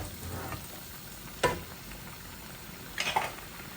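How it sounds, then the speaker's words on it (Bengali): Tengra fish bhuna curry bubbling up to a boil in a pot, a steady soft sizzling hiss broken by two brief clattering knocks, with no talking. "এই যে মাছের বলক এসে যাচ্ছে"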